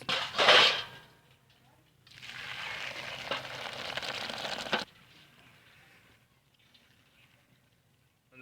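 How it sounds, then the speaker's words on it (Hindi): Water from a pot of boiled rice pours through a large strainer as a broad rushing splash lasting a few seconds, preceded by a brief clatter of the pot and followed by quiet dripping. "अब हम पतीले को नीचे उतार देंगे और चावल में से पानी निकाल लेंगे एक बड़ी छाननी के अंदर।"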